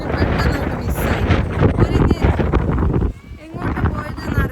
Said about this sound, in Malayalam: നല്ല കാറ്റിൻ്റെ സൗണ്ട് ആയതുകൊണ്ടാണ് ഞാൻ പറയുന്നത്